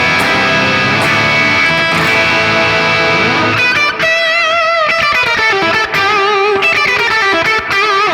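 A 1970s Gibson Les Paul electric guitar on the bridge pickup, played loud and close through distortion: dense chugging riffs followed by bending, barking lead phrases with sustained notes.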